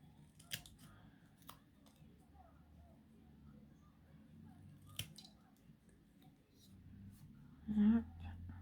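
Scissors cut paper for a craft project in a few close, crisp snips spaced apart over quiet background, with soft handling rustle and a brief soft voice near the end.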